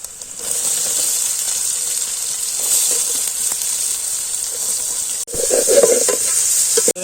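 Three large, finely chopped onions fry with curry leaves in a pan for pepper chicken. A steady, close sizzling hiss runs throughout, with a few scraping stirs and a louder rustle near the end.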